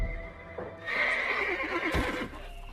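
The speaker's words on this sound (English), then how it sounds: "Cassia saw his horse frightened" A frightened, caged horse neighs loudly in a movie set in ancient Pompeii: one long, shrill whinny that rises and wavers for over a second, close and clear, with a brief thud near its end.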